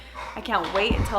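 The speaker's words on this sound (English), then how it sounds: "Sorry if you can hear barking in the background." Bulldogs bark and yip indoors in the background of a home, a few short bursts sitting under a woman's nearby speech.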